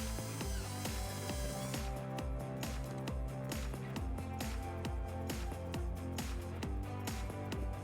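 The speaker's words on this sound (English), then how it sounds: "we're gonna go ahead and insert our first screw so that we can get our bracket nice and straight" A power driver sends a screw into a car bumper fascia to mount a bracket, with rapid ratcheting clicks in a steady rhythmic pattern, close and moderately quiet.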